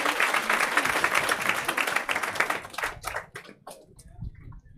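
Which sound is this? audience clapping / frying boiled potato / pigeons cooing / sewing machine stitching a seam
audience clapping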